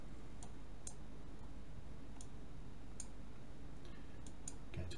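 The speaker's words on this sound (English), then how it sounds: "zoom in with the right hand mouse click and drag the mouse" Faint, sparse computer mouse clicks tick at irregular intervals over a steady background hiss while a 3D map is navigated in ArcGIS Pro.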